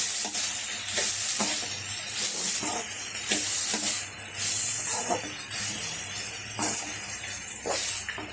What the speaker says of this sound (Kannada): ಅದಾದಮೇಲೆ ಅದನ್ನು ಹಾಕಿ ಚೆನ್ನಾಗಿ ಕೈ ಆಡೋಣ.